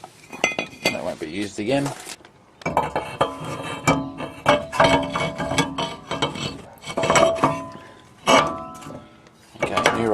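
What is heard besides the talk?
old brake rotor being removed and new rotor fitted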